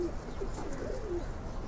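Pigeons kept by a home flock coo softly in a low, warbling murmur over a steady background hum, gentle and moderately distant throughout.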